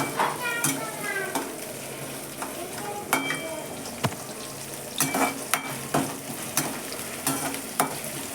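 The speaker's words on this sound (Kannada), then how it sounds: "2 ಮೆಣಸಿನ್ಕಾಯಿ, ಕರಿಬೇವು, ಈರುಳ್ಳಿ ಹಾಕ್ತೀನಿ ನೋಡ್ರಿ. ಚಂದ ಹುರ್ಕೋಬೇಕ್ರಿ." Green chillies, curry leaves and onion frying in oil for egg rice, a continuous crackling sizzle punctuated by frequent sharp clinks of a spoon against the pan, no talking.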